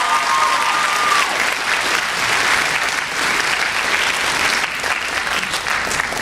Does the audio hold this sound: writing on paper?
no